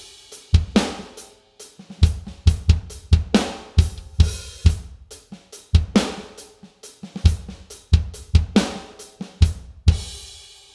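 Programmed Steven Slate Drums played unprocessed: punchy kick and snare hits with cymbals and some room ambience in a busy, steady groove, loud and up close with no talking.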